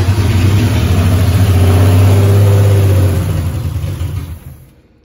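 A 1968 Triumph TR250 engine with no exhaust fitted runs loud and close, revving hard with a deep steady roar that holds for several seconds before dying away abruptly.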